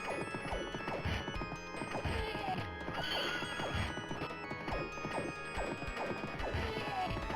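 Horse neighing and galloping in the arcade game Knights of the Round, a busy run of clip-clopping hooves with whinnies over crashing and thwacking combat effects and game music, loud and continuous throughout.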